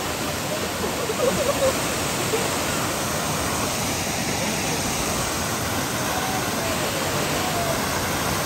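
Khandi waterfall in the Sahyadri hills pours with a constant, dense roar of rushing water, loud and unbroken throughout, with a faint voice briefly audible early on.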